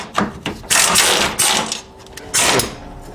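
A Torx driver loosens hardware on the striker and angle bracket of a Jeep XJ Cherokee, producing close metallic clicks and grinding bursts in an uneven rhythm, with a few louder stretches and no talking.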